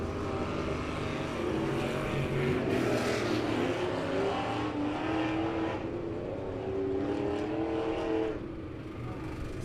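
Race cars roll out onto the track at Lebanon Midway Speedway for a memorial race, engines droning and revving in a loud, continuous wash with rising and falling pitch as they pass.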